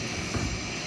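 Airplane engine in a flight simulator game during takeoff, a steady droning hum that swells briefly near the middle, with no talking.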